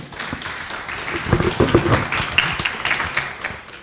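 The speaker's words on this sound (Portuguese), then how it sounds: "Palmas para a Dona Natalina" A small audience at a community memory gathering gives a short round of hand clapping for an elderly woman, rising quickly and swelling briefly before fading.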